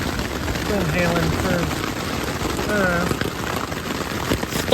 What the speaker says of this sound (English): started hailing about 10 minutes ago, maybe more, maybe 15 minutes ago.